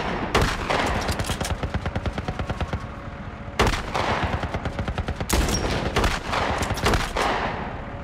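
Sustained automatic gunfire in The Last of Us rattles in long rapid bursts, broken by a few heavier single shots, loud and close with no talking.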